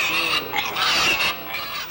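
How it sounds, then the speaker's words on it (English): Several pot-bellied pigs oinking and squealing at a public hearing, a short, loud burst of high grunts and squeals close by. "A consumer rights group brought several pot-bellied pigs to a public hearing today"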